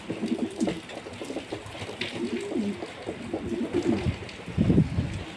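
Pigeons coo repeatedly in a rhythmic low murmur at a rooftop pigeon loft during rain, several birds overlapping at close range with faint wind in the background.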